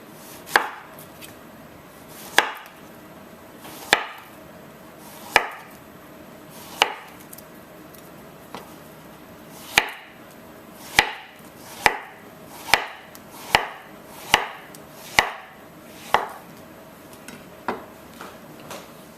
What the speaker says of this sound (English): on an angle, we're just going to cut it into thin strips